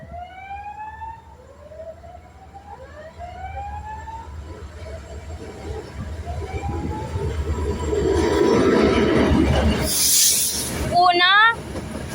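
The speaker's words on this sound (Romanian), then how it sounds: "Asta e un CFR, e un tren CFR care pleacă la Constanța" A CFR passenger train bound for Constanța rumbles past at Neptun, its steady rolling noise growing louder, while rising and falling siren-like tones sound early on and a sharp squealing burst comes near the end.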